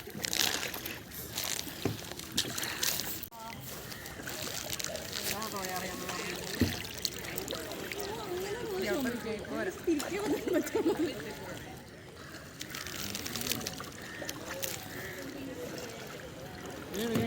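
A kayak paddle dips and pulls through water, giving soft splashes and trickling drips near at hand, while people talk over the quiet, uneven strokes.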